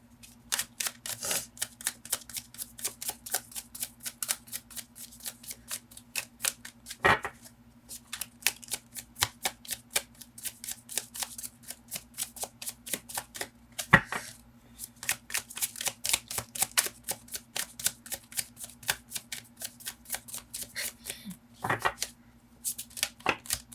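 Rapid crisp riffling and flicking of tarot cards, repeated in long bursts with brief pauses and a few sharper taps, close and fairly quiet.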